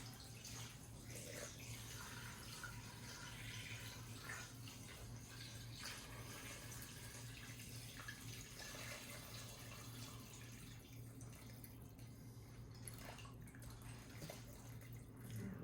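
Filtered water pours into an Instant Pot while making bone broth, a steady, continuous rushing splash that stays close and even throughout without a break.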